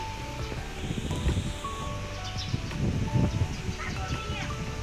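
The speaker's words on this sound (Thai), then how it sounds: "ลมรุนแรงมากเลยนะคะ" Strong gusty wind and heavy rain roar outdoors, a loud, continuous rushing wash with low rumbling buffets against the microphone that swell and ease, and a voice faintly present underneath.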